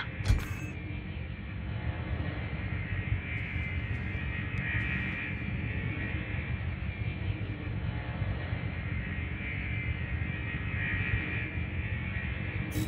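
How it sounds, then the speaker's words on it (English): A spaceship throttling up in the game Elite: Dangerous, heard as a steady, loud, deep engine rumble and drone that holds evenly throughout, with no voices. "When you're ready, throttle up and engage Super Cruise."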